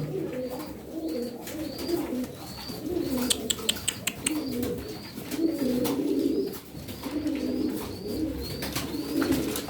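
Racing pigeons in a loft coo repeatedly in low, throaty rolling phrases close by, with faint chirps and a few sharp clicks or wing claps mixed in.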